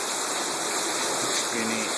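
Steady rain during a thunderstorm in the Roblox game Brookhaven, a dense, continuous broadband hiss of falling water, loud and close, with a faint voice briefly under it.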